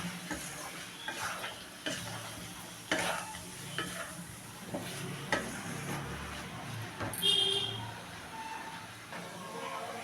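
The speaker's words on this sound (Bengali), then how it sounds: "বেসনটা এর সঙ্গে আমি কষে নেব, তাতে তরকারিটা বেশ মাখো মাখো হবে।" A spatula scrapes and stirs gram flour into a bora and bottle gourd curry in a pan, with intermittent knocks and scrapes over a faint sizzle, close and moderately loud.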